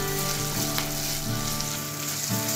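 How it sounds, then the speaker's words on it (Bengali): Noodle ingredients lightly frying in a pan with a pinch of salt, a steady close sizzle running throughout with soft scraping stirs underneath, no voices. "এবার হালকা একটু ভেজে নেব।"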